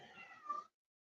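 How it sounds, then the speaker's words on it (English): A house cat gives a single short, close meow that rises slightly and then cuts off. "ignore the cat."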